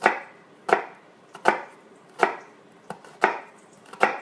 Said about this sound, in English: we're going to take the front of our knife. We're going to go right on the front of the onion here.